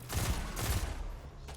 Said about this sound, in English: just kind of poke him with my pulse rifle a little bit